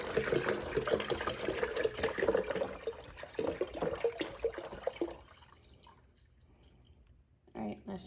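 Tap water that has sat for a day pours from a gallon container into a hydroponic setup, a steady splashing trickle for about five seconds that then stops, leaving quiet with a few small drips.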